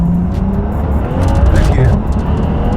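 BMW car with an N55 engine and big turbo upgrade accelerating hard at full throttle, a loud sustained engine roar heard from inside the cabin with a rising tone and a brief tire-squeal-like whine midway.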